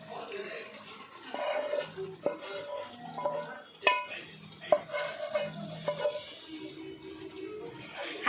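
A utensil stirs paneer tikka masala in a pan with soft scraping and occasional sharp clinks against the metal, close by and moderately quiet, under a voice talking throughout.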